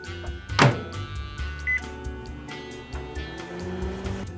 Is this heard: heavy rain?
no